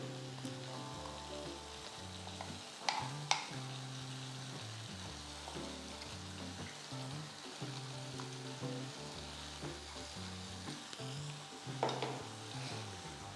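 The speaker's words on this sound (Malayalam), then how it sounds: "ടൊമാറ്റോസ് നന്നായിട്ട് വെന്ത് ഉടയണം, അതുവരെ വഴറ്റുക" Tomatoes sautéing in a pan for an oil-rich stuffed eggplant curry, a steady soft sizzle with occasional stirring scrapes, set against background music with tonal notes throughout.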